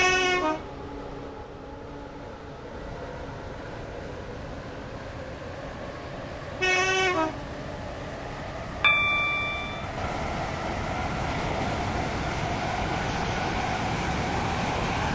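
Class 319 train running in the Roblox game SCR on a WaterLine service: a continuous low rumble of rolling stock with short horn-like tones and a sharp electronic chime midway, heard without voices.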